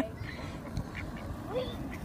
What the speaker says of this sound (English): A lot of geese.